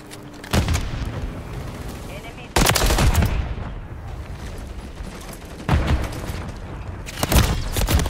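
Call of Duty MW3 gameplay: bursts of loud automatic gunfire and heavy booms, with a grenade thrown, several sharp volleys spaced a few seconds apart over continuous battle noise.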